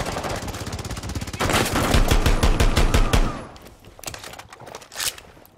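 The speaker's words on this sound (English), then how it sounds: "This gun ain't bad for a 9mm Sten replica." Rapid automatic bursts from a 9mm Sten replica in Rainbow Six Siege crackle in a dense, loud string, then thin out into a few scattered shots and one sharp final report.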